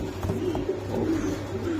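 Pigeons at a pigeon exhibition and sale cooing softly, low throaty murmuring coos repeating over a steady background hum, close by with no talk.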